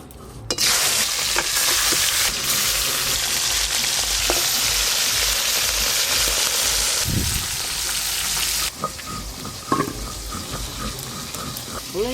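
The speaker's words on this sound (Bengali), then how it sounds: "প্রথমে বাটা মাছগুলো ভেজে নেব।" Bata fish fry in oil in a pan over a rustic clay stove, giving a loud, continuous sizzle with occasional stirring clinks and scrapes, and no voices over it.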